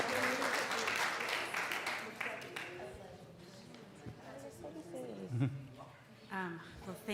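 Audience applause at an evening community event, steady clapping for a few seconds that tapers off under a speaking voice and room noise.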